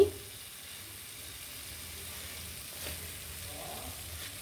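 Sweet potato pieces coated in melting jaggery are stirred slowly in a pan, giving a soft, steady sizzle with faint scraping throughout, low and close, with no talking.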